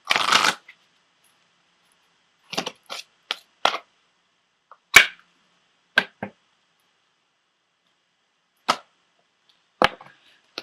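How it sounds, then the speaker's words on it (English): An Angel Therapy tarot deck being shuffled by hand in short, crisp riffling bursts, one longer run followed by a string of brief flicks and snaps spaced out over quiet pauses, close and clear. "I'm also pulling a card from the Doreen Virtue Angel Therapy deck for everyone this month."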